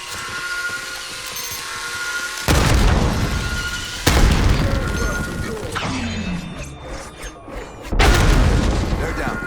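Heavy booms from grenade blasts and gunfire rumble through a Call of Duty: Black Ops 6 firefight, several loud low impacts a couple of seconds apart amid ongoing battle noise and voice chatter.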